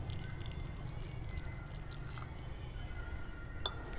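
Turmeric water poured from a glass onto the base of a banana tree, a soft continuous splashing and dripping trickle with a faint tap near the end, no talking.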